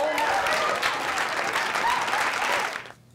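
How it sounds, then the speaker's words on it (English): A large crowd applauds steadily and loudly for about three seconds before the clapping quickly fades out. "Please give a warm round of applause to the President of the United States, President Obama."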